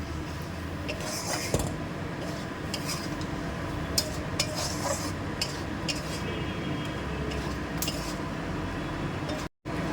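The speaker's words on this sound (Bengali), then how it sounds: "আবারও একটু ভালো মতনভাবে কষে নেব" Spices and vegetables stir-fried in a pan for a yam and prawn curry, a spatula scraping and clinking against the metal in irregular strokes over a low frying hiss, close by with no talk.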